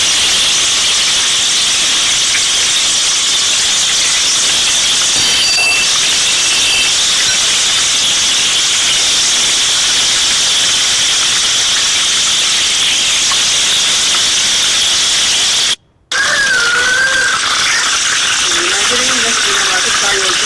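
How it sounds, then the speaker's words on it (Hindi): Fish frying in hot oil gives a steady, loud broadband sizzle and hiss that runs almost without pause, broken only by one short cut near the end, after which faint higher squeaky tones sit over the frying. "मछली को फ्राई करेंगे।"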